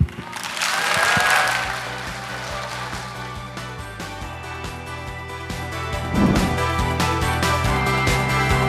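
A church congregation claps and cheers in welcome, swelling to a loud burst early on. The applause then carries on more softly beneath sustained instrumental music.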